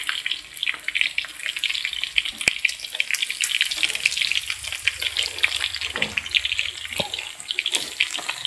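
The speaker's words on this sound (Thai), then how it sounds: "ทอดหนูนาคลุกเกลือ" Salt-coated field rats deep-fry in hot oil with a loud, continuous bubbling sizzle and crackle, close up and steady, with an occasional sharp clink.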